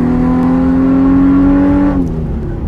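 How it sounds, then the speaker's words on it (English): A 2006 Infiniti FX35 AWD revs hard under acceleration, its loud exhaust a steady, rising engine drone for about two seconds before the pitch drops as the throttle eases, close and loud with no talking. "This thing's got some pipes on here or something."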